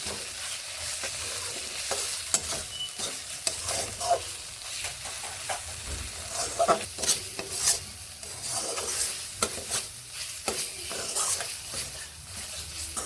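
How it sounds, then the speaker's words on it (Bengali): Spices for a vegetarian winter-vegetable dish are stir-fried in a pan, with close, rhythmic scraping stirs over a soft ongoing sizzle and hiss, repeating steadily throughout. "মশলাগুলোকে বেশ ভালোভাবে এইভাবে আমি কষিয়ে নিচ্ছি"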